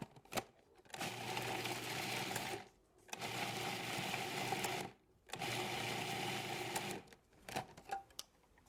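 A blender whirs through raw faux tuna pate in three steady bursts of about two seconds each, with short pauses and clicks between them, close and fairly loud.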